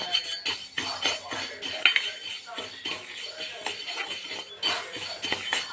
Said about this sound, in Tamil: உளுந்தம்பருப்பை போட்டு கொஞ்சம் செவக்க வறுத்துக்கணும் எண்ணெய் ஊற்றக்கூடாது